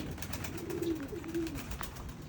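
Racing pigeons cooing at close range, soft low warbling coos repeated over a steady background of outdoor noise.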